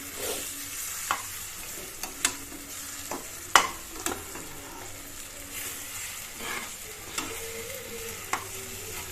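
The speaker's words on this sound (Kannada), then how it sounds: "ಸ್ವಲ್ಪ ಟೊಮೊಟೊ ಮರ್ಸ್ಬಿಟ್ಟಿದ್ದೆ ಹಾಕ್ತಾ ಇದ್ದೀನಿ ಇದಕ್ಕೆ ಫ್ರೈ ಮಾಡ್ತಾ ಇದ್ದೀನಿ" Chopped tomatoes frying and being stirred in a pan for egg rice, with a steady sizzle broken by repeated sharp scrapes and clicks of the spoon against the pan, close and alone.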